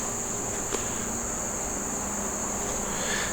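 Insects droning in timber during a Kentucky velvet hunt, a steady high-pitched buzz and chirr filling the air at moderate level, with no talk.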